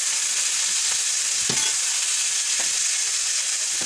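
Dried ghusho fish and onion fry in a pan, giving a steady, loud sizzling hiss with a few sharp crackles and pops, close up and without talk.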